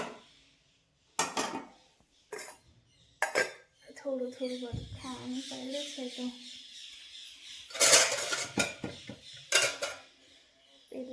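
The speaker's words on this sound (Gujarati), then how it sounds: "પછી વાસણ ધોઈ નાખું" Dishes being handled for washing in a home kitchen: clinks and clatters of pots, plates and cutlery in bursts, close, with someone speaking between them.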